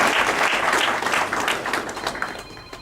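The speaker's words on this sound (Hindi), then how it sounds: "अपने अतुल जी और उनकी टीम को एक बार हम तालियों से" A crowd at a climate change study circle applauds Atul ji and his team with full, steady clapping that is close and loud at first, then eases off slightly toward the end, with no talking.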